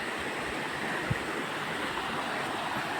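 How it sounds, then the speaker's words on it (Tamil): Water runs steadily from a hillside irrigation reservoir tank in the Kolli Hills, a continuous broadband rush of flow with no voices, heard at moderate distance with a single brief knock partway through. "தண்ணி அழகாக போயிட்டுருக்கு."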